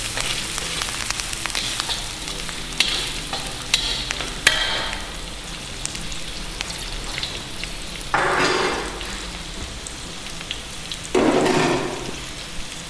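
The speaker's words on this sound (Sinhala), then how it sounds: "ඊට පස්සේ ඇඩ් කරලා අපි මේක කලවම් කරනවා." Spicy seafood boil with chopped onions being stirred in a pot, a steady wet sizzle with occasional scraping sweeps and clinks of the spoon, close and continuous with no voices.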